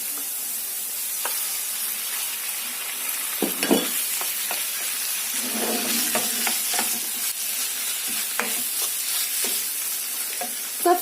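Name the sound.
diced chicken pieces frying in a pan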